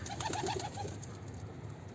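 A few soft pigeon coos from a coop sound early on, low and throaty, over a faint outdoor background that continues quietly afterward.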